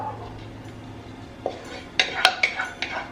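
Tartiflette ingredients being mixed in a dish, with a spoon scraping and clinking against the dish in a few sharp knocks near the end, close by and fairly quiet, no talk.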